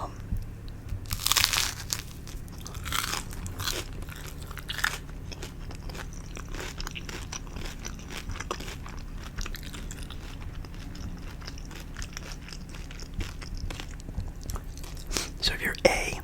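A crunchy grilled cheese sandwich with pepper jack is eaten close to the microphone: repeated crisp bites followed by chewing, with soft whispering at times.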